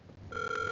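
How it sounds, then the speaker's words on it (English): A house telephone rings once, a short bright electronic trill starting abruptly and holding steady, loud and close with nothing else heard. "If I call the house phone and it rings that many times,"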